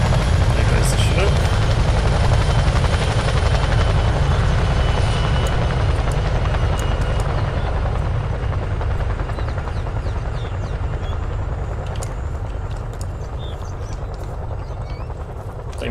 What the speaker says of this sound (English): There goes the Chinook.